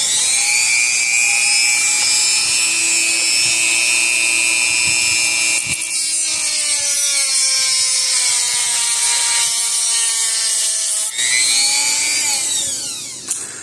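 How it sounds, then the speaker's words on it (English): A Dremel rotary tool cuts the lip off an old transformer in a PEL 100 electric fencer, a loud, close, high whine that changes pitch as the load shifts and runs for several seconds before stopping. "I'm going to take the Dremel tool and I'm going to cut the lip off this transformer here all the way around."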